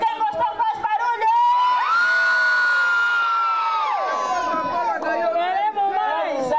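A live audience at a stage show cheering, shouting and whooping loudly, with a sustained high collective yell swelling and fading amid crowd chatter.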